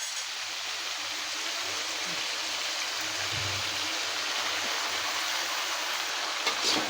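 Sliced bitter gourd tipped into a pan of half-cooked potatoes, setting off a steady, even hiss of frying oil that carries on without a break, close and moderately loud, with no talking.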